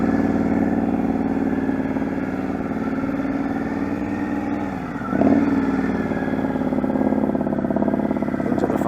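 A student riding a motorcycle through a training course, its mid-pitched engine droning steadily and fairly loud, briefly dipping then picking back up as the bike leans through turns.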